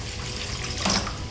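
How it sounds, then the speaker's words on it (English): A cup and a half of water pours steadily into a pot of chili with a continuous close splashing rush, briefly louder near the end. "We're now going to add 1½ cups of water"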